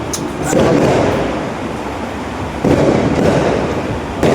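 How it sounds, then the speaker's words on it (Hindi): Diwali firecrackers bang and boom in the distance, two swelling bursts over a constant noisy crowd, with people talking throughout. "बहुत तगड़ा पटाखा फट रहा है भाई।"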